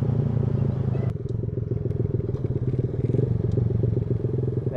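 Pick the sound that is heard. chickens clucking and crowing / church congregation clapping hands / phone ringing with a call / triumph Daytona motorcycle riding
triumph Daytona motorcycle riding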